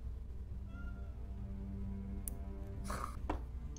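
A cat meows a few times close by, with short plaintive calls over faint room hum, followed near the end by brief sharp rustling or clatter.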